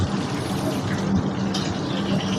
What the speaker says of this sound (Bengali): যে সোয়া সস দিয়েছিলাম, সোয়া সসটা একটু দিয়ে দেবো